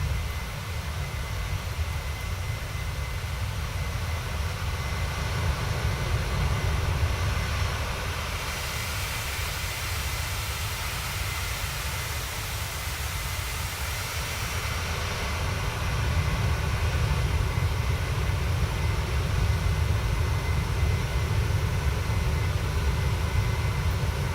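A Boeing airliner's engines roar steadily in a flight simulator game, heard from an outside view while climbing, a continuous broadband drone with a brief tonal shift midway and no talking.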